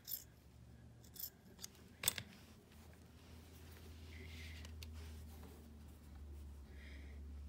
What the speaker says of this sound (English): Just make sure you're not trimming the lace and make sure you're not trimming the fabric